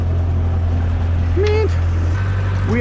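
A 12-valve Cummins diesel engine mounted in the back of a rickshaw, idling with a steady low rumble while brief whistle-like tones and voices come and go over it.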